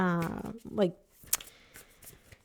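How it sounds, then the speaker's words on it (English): A new tarot deck is shuffled by hand in a few quick riffling bursts after a brief stretch of talk, the card noise close and moderately loud. "it's a new deck, and so it's every time I shuffle it, it kind of like rubs my fingers a little bit raw"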